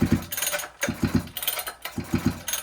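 A rebuilt engine is turned over slowly by hand with no spark, giving a close, rhythmic series of mechanical chuffs and clunks in groups of several strokes, with short pauses between the pulls.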